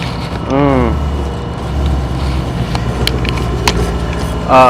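A passing car heard from a garage or driveway during suspension work on a 2017 Mustang, a steady engine and road rumble sweeping by at moderate distance, with a brief voice near the start and end.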